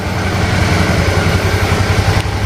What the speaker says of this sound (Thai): เดี๋ยวขออนุญาตดับในส่วนตัวเครื่องยนต์นะครับ